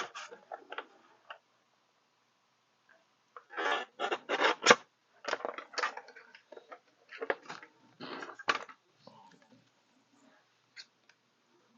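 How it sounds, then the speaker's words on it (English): A paper trimmer slices through paper in short bursts of crisp scraping cuts, grouped in quick clusters separated by silent pauses, close and clear with no talking. "Grab my paper trimmer."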